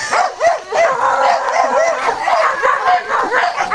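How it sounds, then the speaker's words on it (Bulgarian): A dog barks and whimpers in quick yips and whines, loud and close, repeating throughout with a voice faintly talking in the background. "Значи това е, виж, какво хубаво куче."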